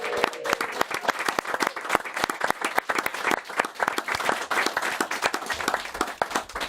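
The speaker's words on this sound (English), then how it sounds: "Give him a big round of applause, everybody." Audience applause for a departing footballer, a steady burst of many hands clapping close and loud, with scattered sharp individual claps throughout.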